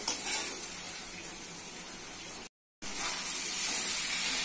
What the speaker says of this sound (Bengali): মশলা হয়ে গেছে, দিচ্ছি আলু ভাজি। আলু ভালো করে কষে নিতে হবে।